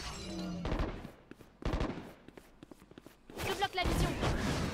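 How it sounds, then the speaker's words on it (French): Valorant gunfire crackles in several short bursts of rapid shots, some dense and loud, mixed with footstep thuds and game effects while a player talks over it. "J'entends que ça tire sur vous en A."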